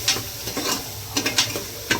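Spices frying with ginger garlic paste in a pan for ghee rice, with close stirring scrapes and soft sizzling in short bursts, no talk.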